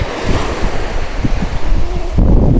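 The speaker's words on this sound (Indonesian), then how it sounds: "Tapi ternyata ini ombaknya cukup besar." Ocean waves surge and break at a Hawaii beach, a steady loud roar of surf mixed with heavy wind buffeting the microphone, swelling louder near the end.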